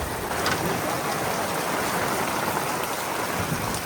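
Heavy rain pours down steadily, a dense, continuous hiss of drops hitting surfaces close by, with no talking.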